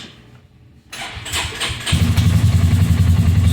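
A Polaris Ranger 570 EFI utility vehicle engine cranks briefly with quick starter chatter, then catches and settles into a loud, steady low idle, close by with no talking.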